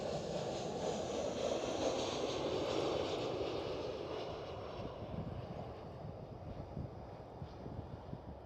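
Lufthansa Airbus A319 airliner at Amsterdam Schiphol, a steady broadband jet engine roar that slowly fades as the plane moves away, with light wind noise on the microphone.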